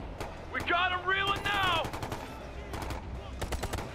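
Automatic weapon fire rings out in the video game Ghost Recon: Future Soldier in rapid bursts of sharp shots, with a short synthetic tonal cue partway through and a clear final volley.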